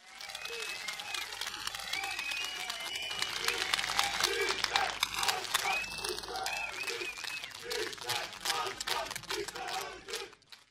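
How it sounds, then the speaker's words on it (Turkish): A political rally crowd gives strong applause, mixing a dense roar of clapping with cheers and shouted voices. Whistles and raised calls rise above it, and it swells through the middle before easing toward the end. "bir kuvvetli alkış"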